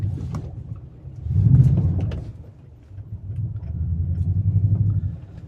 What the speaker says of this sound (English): Here we just drive right off the road and right into the tree.